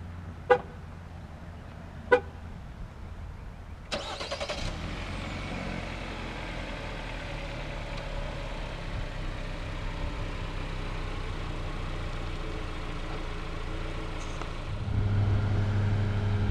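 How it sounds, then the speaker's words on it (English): A 2017 Jeep Compass Limited 4X4 chirps twice as it is remote-started from the key fob, then its engine cranks and settles into a low steady idle that swells slightly toward the end. "just double press the remote start button on the key fob"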